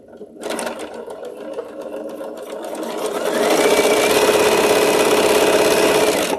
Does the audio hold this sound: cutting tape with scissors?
no